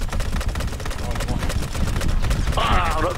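Gunfire in the video game Battlefield on the Golmud Railway map during a large Conquest match, rapid bursts of shots crackling under players chatting over voice chat.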